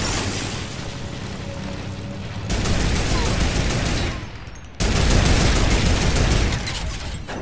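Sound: turret firing in a video game

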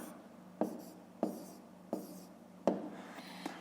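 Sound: writing on paper

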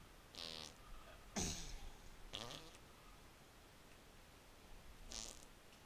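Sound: farts

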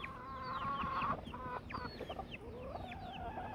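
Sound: hen clucking

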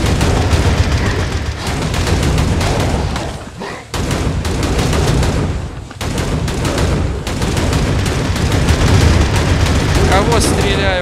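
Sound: gunfire in the video game Hellbound

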